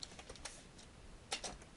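A few soft, scattered keystrokes on a computer keyboard while entering code in Excel, quiet and close, with a sharper cluster of clicks near the end and no talking.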